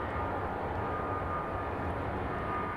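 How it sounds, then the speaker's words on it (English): Airliner engines in the Infinite Flight flight simulator keep up a continuous, even roar with no other sounds. "Oh, listen to those engines."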